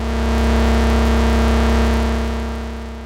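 A thick synth pad drones on one low note, layered with a grainy chemical-noise waveform that adds rough overtones, steady and loud throughout.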